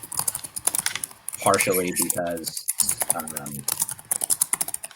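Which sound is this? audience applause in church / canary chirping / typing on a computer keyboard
typing on a computer keyboard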